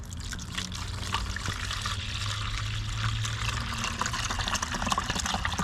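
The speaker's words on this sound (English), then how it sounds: "I'm gonna add some water, and I am going to fill this up." Water pours steadily into a box of Prim Grip tile adhesive product, a continuous trickling, splashing stream heard close and alone for several seconds.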